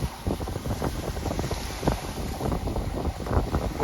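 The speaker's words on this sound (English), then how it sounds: "So I'm hoping you can hear the plane and the waves and the wind." Wind and waves at the Fulton Beach Road pier, a steady rushing, buffeting roar with low rumbling wash and wind noise on the microphone, continuous and fairly loud throughout, with no one talking.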